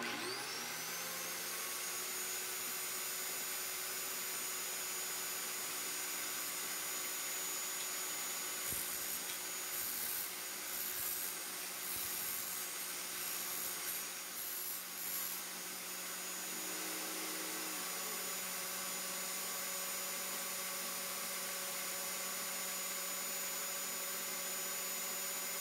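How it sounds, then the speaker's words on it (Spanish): Bench grinder motor running steadily while grinding a pulley down to size on a portable lathe setup, a constant whining hum with a brief scraping contact midway, moderately quiet and without talk. "Voy a utilizar el esmeril y voy a prender el motor"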